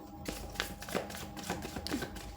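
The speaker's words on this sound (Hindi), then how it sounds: "जब तक मैं कार्ड को शफल करती हूँ" Tarot cards shuffled by hand, a soft run of papery riffles and taps, close and fairly quiet, with no voice over them.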